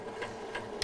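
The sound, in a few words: sewing machine stitching through piping layers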